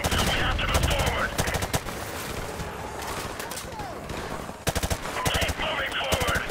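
Call of Duty 4 combat as soldiers fire on a building in a bog: loud, rapid automatic bursts open and close the passage, with quieter scattered shots between them and shouted voices over the top.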